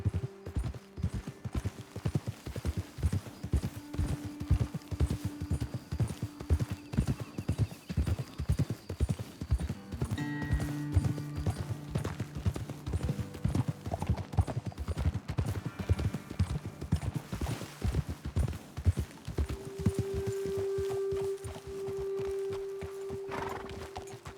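In the video game Red Dead Redemption 2, steady clip-clop of horse hooves on hard ground, a rhythmic trot that continues throughout, with a horse whinnying now and then.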